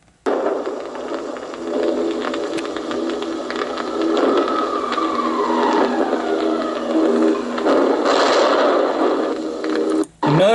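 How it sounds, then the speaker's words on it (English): Added bombing sound effect over World War II footage of the bombing of Cologne, a dense, continuous roar with a falling whistle-like sweep in the middle and a surge near the end. "Notice how they add that sound, okay, to give you the idea of bombing."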